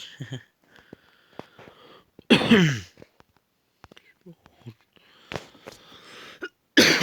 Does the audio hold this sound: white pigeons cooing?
no